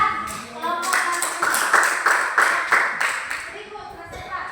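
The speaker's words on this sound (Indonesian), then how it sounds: "Ya, tepuk tangan buat kelompok satu" Classroom clapping for a student group, a run of hand claps rising under a teacher's voice, close and fairly loud with speech continuing over it.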